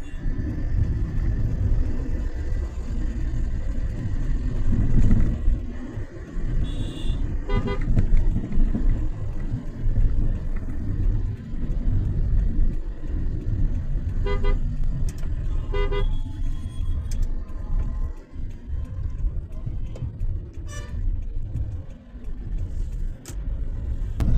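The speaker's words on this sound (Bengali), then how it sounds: "রাত 1টা বাজে, তাও গাড়ি ঘোড়া কিন্তু এখনো কমে নাই।" Busy late-night road traffic in Dhaka around 1 a.m., with trucks and other vehicles passing: a steady, loud engine rumble carries throughout, broken by several short, repeated car horn toots clustered around the middle and later stretches, with no talk.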